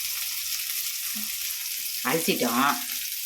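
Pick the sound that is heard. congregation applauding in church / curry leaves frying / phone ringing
curry leaves frying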